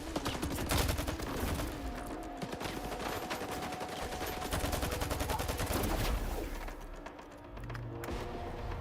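Sustained automatic gunfire from a magazine being emptied in S.T.A.L.K.E.R. 2, rapid close shots rattling on for several seconds before easing off, with faint bird calls underneath.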